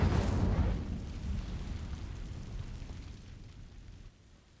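An Incendio fire spell in the Hogwarts Legacy video game sets dry vines alight with a loud, deep whooshing burst that starts at once, then fades into a dwindling roar over a few seconds.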